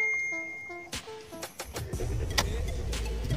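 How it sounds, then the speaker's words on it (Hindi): A 2021 Hyundai i20 Sportz with a 1.2 litre Kappa petrol engine starts up: cabin chimes and a few clicks, then the starter cranks and the engine catches into a steady close idle hum. "आइए गाड़ी को स्टार्ट करके देखते हैं।"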